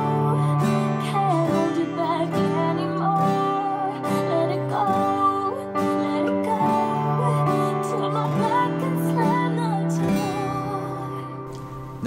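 Acoustic guitar plays the intro of a song from Disney's Frozen, a steady run of strummed and picked chords with shifting bass notes, close and fairly loud, with no talking over it.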